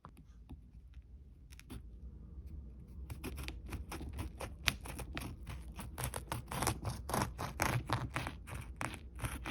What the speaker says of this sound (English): I'm just going to carefully cut into this one